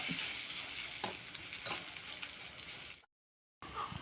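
Dates and lemon pickle sizzle and fry in a pan while being stirred, a steady hiss with soft spoon scrapes, then a brief cut to silence before the frying resumes.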